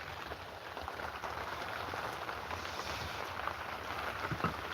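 Rain falls outside as a steady, even hiss of drops hitting surfaces, continuous and moderately loud, with no voices.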